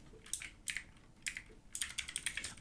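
Rapid bursts of typing on a computer keyboard during a live online workshop, clusters of crisp key clicks in an uneven rhythm with brief pauses, close and fairly quiet, no talking.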